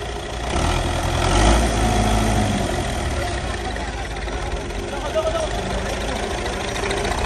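A Russian tractor engine idles with a steady low rumble throughout, fairly close, with faint voices mixed in.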